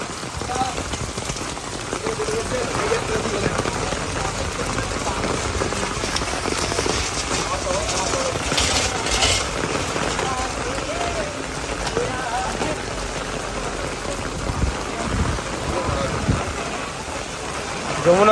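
Rain falls steadily in Vrindavan during flooding, where devotees walk their circuit. It makes a continuous broadband hiss of drops hitting surfaces, with occasional louder splashes, over the whole stretch.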